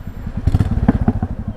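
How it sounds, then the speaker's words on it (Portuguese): A Royal Enfield Classic 350 fitted with a sport exhaust tip rumbles close by in traffic with a loud, rapid, uneven burbling pulse that swells briefly toward the middle. "que pega o som, galera, do escapamento"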